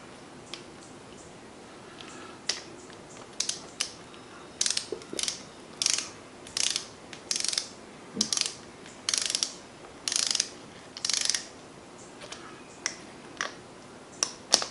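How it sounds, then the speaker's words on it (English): A ratcheting torque wrench clicks in steady, evenly spaced bursts while tightening bolts on a Hydro-Gear pump from a zero-turn mower being rebuilt; close, crisp mechanical ratchet strokes repeat for over ten seconds with brief pauses and no talking. "it gets torqued to 130 inch-pounds, so we need to back off with the torque wrench a little bit"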